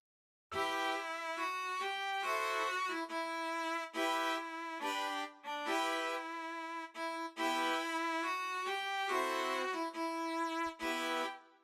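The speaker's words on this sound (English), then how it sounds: "And last but not least, this violin." A solo violin plays a sustained, lyrical melody of held bowed notes with brief gaps between phrases, clear and upfront.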